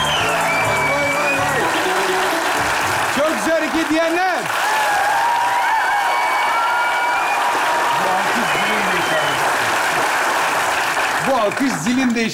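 A crowd claps steadily throughout, dense applause with people talking and calling out over it.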